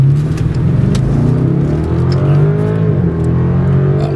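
BMW 650i Gran Coupe M-Sport with a turbocharged engine accelerating hard in Sport Plus mode, a loud, close engine roar rising in pitch through the gears, with brief dips at the shifts and no talking.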